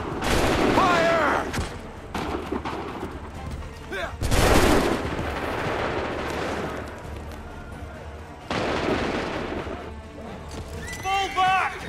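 Musket volleys crack out in Assassin's Creed III, broadband bursts scattered across the scene with a big blast near the middle and another later on, over constant battle noise while voices shout throughout.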